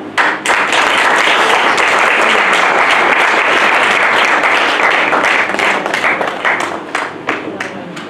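A church congregation applauds the Lord with loud, sustained, dense clapping from many hands at close range, thinning slightly near the end, with voices faintly mixed in.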